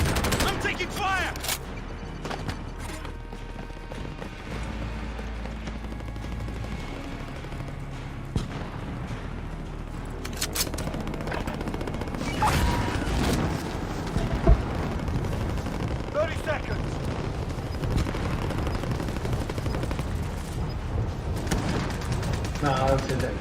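Heavy gunfire in a Call of Duty match: dense, continuous bursts of automatic fire and booming explosions, loud and close throughout, with a player talking over the shooting.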